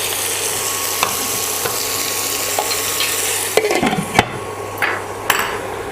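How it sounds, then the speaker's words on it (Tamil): Curry leaves crackle and sizzle in hot oil for a South Indian moong dal curry, a steady fry with a few sharp clinks of a spoon against the pan near the end; no one speaks. "கருவேப்பிலை போட்டுக்கிறேன். இது கோல்டன் ப்ரௌனாக ஆக வரைக்கும் நம்ம வெயிட் பண்ணுவோம்."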